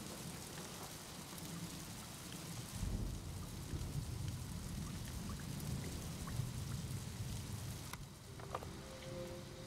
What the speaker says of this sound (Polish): Deszcz jest jednym z moich ulubionych odgłosów w ogóle w naturze.